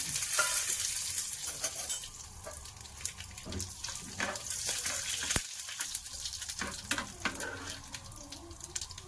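Cumin seeds and chilies frying in a pan for a Christmas lunch, a dense crackling sizzle with sporadic pops and clinks, mixed with running-water and washing noise nearby, no talking.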